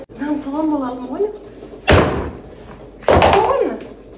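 Two heavy chops of a not-very-sharp blade into a meat bone, each a sharp loud thud with a brief ringing tail, spaced about a second apart, with a voice talking just before the first strike.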